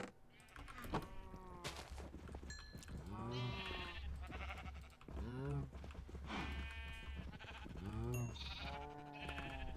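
Sheep in a video game bleat repeatedly, several overlapping calls rising and falling across the stretch, over soft keyboard typing and faint background noise.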